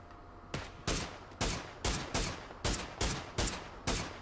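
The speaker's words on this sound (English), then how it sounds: "Someone else is shooting at me." Gunfire in the battle royale game PUBG: about nine sharp, loud shots at a roughly regular pace over four seconds, each with a short decaying tail, no voices.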